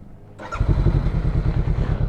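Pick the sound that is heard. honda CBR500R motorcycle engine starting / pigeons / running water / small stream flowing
honda CBR500R motorcycle engine starting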